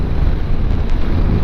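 Loud, gusty wind buffeting the microphone with a deep rumbling roar while riding a Honda NC700X motorcycle at speed.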